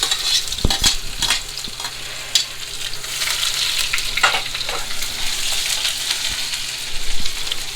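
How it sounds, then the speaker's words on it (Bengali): Chopped onion and garlic frying in oil in a pan give a steady sizzle at close range, with occasional stirring scrapes and clicks throughout and no talk. "তেলের মধ্যে দিয়ে দিব এখন পেঁয়াজ কুচি আর রসুন কুচি"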